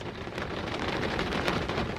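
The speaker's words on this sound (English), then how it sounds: "there is a fairly heavy cell passing through. Should be the last of the rain." Heavy rain from a passing storm cell pours steadily and loudly, a dense continuous hiss of drops with no pauses, nothing else heard over it.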